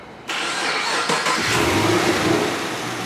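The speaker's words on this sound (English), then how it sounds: "start the engine and let it run for about 30 seconds or so" A Chevrolet Camaro 6.2L V8 engine cranks and catches after an oil change, then settles into a steady, loud idle that runs on without a break.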